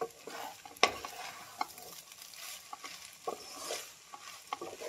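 White pasta tossed in a pan with chilli flakes and pepper: soft scraping and stirring with a few sharp utensil clicks against the pan, fairly quiet and close, with no talking.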